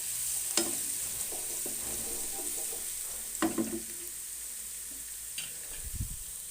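Onions and spices cook in a pan with a faint, steady sizzle, broken by a few louder clinks and scrapes of stirring, close but quiet and without voices.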